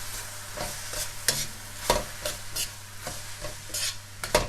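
Spring roll filling with chopped vermicelli and soy sauce being stir-fried: a soft steady sizzle broken by repeated scraping clacks of a utensil against the pan at irregular intervals.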